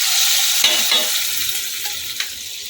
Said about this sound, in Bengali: এটাকে ধরে তরকা লাগিয়ে দিলাম